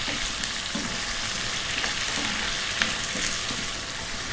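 Onion and salt fry in a pan for a vegetable pumpkin curry, a dense steady sizzle with occasional scraping and tapping from a spoon stirring, close and loud with no talking.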